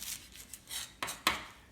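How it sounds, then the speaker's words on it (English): Fresh cilantro being chopped with a knife on a board: a few soft cuts followed by two sharper, distinct knife strikes near the end, close and quiet with no talk. "Then we're going to start chopping up our cilantro because it adds a nice flavor on top of those tacos."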